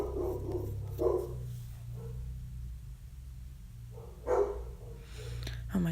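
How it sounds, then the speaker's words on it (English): Dogs bark in short bursts in a home setting, a few separate barks spaced over several seconds against a low rumbling background, moderately loud and somewhat muffled. "Oh my gosh, these dogs"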